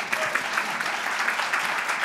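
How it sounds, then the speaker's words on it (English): Steady applause from a conference audience, a dense continuous clatter of many hands clapping throughout with no pauses. "I could use a clap."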